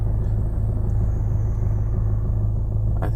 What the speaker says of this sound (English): I think that's the water pump.